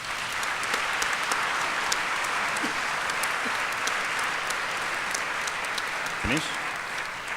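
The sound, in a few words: conference audience applause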